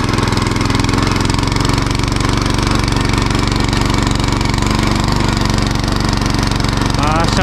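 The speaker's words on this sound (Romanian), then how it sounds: "Dăm puțină turație." A tiller engine revs hard and steady while working previously plowed ground to prepare it for planting potatoes, a loud, close, rattling drone that holds throughout, with someone speaking briefly over it.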